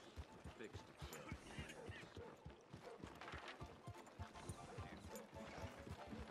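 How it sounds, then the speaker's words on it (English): Horse hooves clip-clop at a steady walking rhythm on a town street in Red Dead Redemption 2, close and continuous, mixed with faint background voices. "That's a nice horse."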